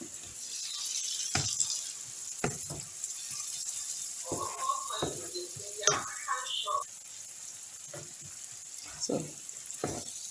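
Fried rice ingredients bubbling and sizzling in a hot pan as their juices cook off, a steady hiss punctuated by scattered clicks and utensil scrapes, moderately close, with some faint voice in the background.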